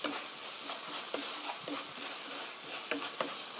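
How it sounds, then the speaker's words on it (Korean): Gochujang chili paste stir-fried in a pan while making seasoned spicy chicken: a soft continuous sizzle with scraping stirs of a utensil at an irregular rhythm, close and fairly quiet, no talking. "고추장이 거의 볶아졌으면 한 1 minute, 1분 정도 이렇게 볶아주세요"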